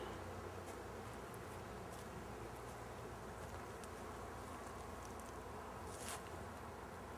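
Honeybees are blown out of honey supers on a beekeeping site, making a dense, continuous buzzing drone under a steady rushing roar that holds at an even level throughout.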